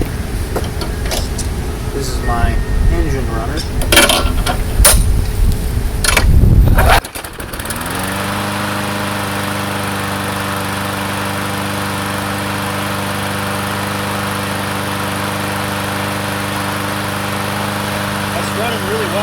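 A Craftsman push mower is primed and cranked with rattling pulls until its small engine catches, then runs on at a steady, loud, even drone.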